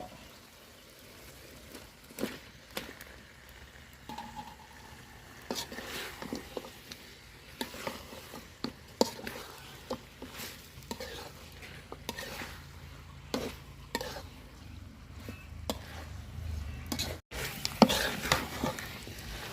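Chunks of country rooster meat go into a spice paste frying in a pan, giving soft sizzling with scattered stirring and clinks of pots over about twenty seconds, growing louder near the end.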